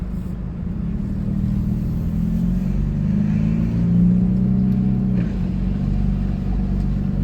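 A Jeep Cherokee under rebuild after a wreck runs with a steady low engine rumble while driving, holding a constant drone with a slight rise in revs midway and no talk over it.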